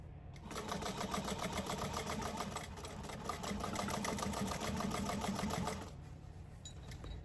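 A sewing machine runs continuously, stitching a tote bag with a rapid, even mechanical chatter for several seconds before stopping abruptly, leaving a faint quiet tail.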